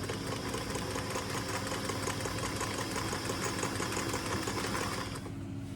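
A sewing machine stitches steadily along the edge of a pants hem being turned into shorts, a continuous rapid mechanical whir with no pauses, close and even until it stops abruptly near the end.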